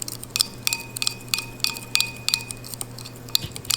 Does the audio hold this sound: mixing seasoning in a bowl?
yes